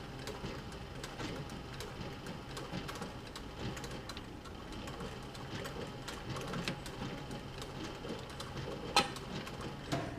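A sewing machine back stitches a leather camera bag with a steady, even mechanical whir, close and continuous, with a couple of sharp clicks near the end.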